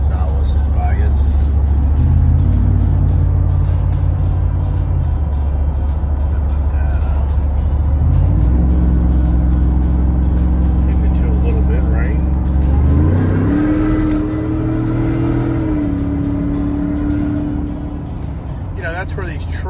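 Cars and sport trucks at a Supersnake Sport Truck Day car event, engines droning loud and close as vehicles pass and change gears, with talking over the engine noise throughout.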